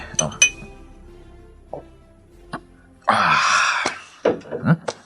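Glass clinking in a home setting, a few sharp bright clinks at the start and more scattered taps near the end, with a cough and a burst of speech in between.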